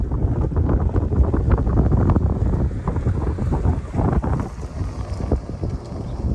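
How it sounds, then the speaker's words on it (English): Gusty wind buffets a microphone outdoors during a portrait photo shoot, making a loud, uneven low rumble with rising and falling gusts throughout. "Oh yeah, it's windy."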